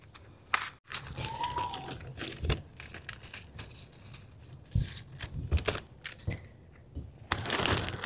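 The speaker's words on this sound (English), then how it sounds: "This is just wet paper towels to keep it moist" Wet paper towels crinkle and crush as they are packed around tree roots while planting in dirt, a steady close-up rustle with scattered crackles and a louder burst of crumpling near the end, no talking.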